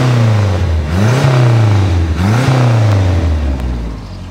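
A Porsche 997 GT3 rally car's engine revs repeatedly with a low growl, its pitch swinging up and down in two or three surges over a steady loud idle, close and alone.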